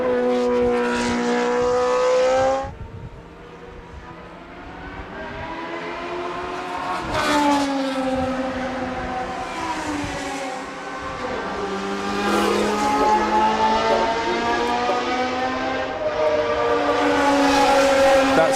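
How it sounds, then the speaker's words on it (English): Formula One race cars from the 1970s and 1980s with Cosworth engines howl past on a circuit in Britain, a sustained high-revving engine wail that rises and falls through gear changes, loud and close, with no voices over it. "this is the soundtrack of British Grand Prix of the 1970s and 1980s, a field full of Cosworth engines"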